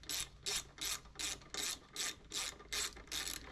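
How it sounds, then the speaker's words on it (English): A hand ratchet drives bolts into a bracket with seven or eight quick bursts of close, crisp clicking, each burst followed by a short gap, in a steady back-and-forth rhythm. "I like to try to hand ratchet the stuff in."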